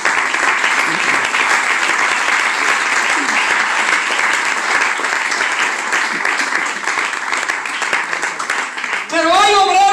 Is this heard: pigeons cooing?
no